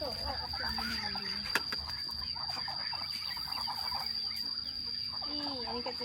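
Chickens and ducks clucking together in a rural yard, repeated close clucks and calls over a steady bed of crickets and insects, with a voice heard faintly in the background.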